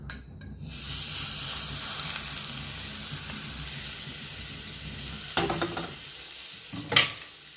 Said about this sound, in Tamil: எண்ணெய் நல்லா சூடாயிடுச்சு. இந்த மசாலா ஊற்றிடலாம்.